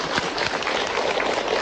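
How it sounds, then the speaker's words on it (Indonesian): Women of a Majelis Ta'lim congregation at an Islamic religious talk clapping, a short burst of steady applause. "tepuk tangan dulu"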